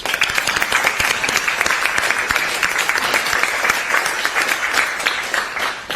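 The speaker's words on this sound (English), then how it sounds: "How about a big applause here?" Sustained applause from a large conference audience, dense steady clapping filling the whole stretch without a break.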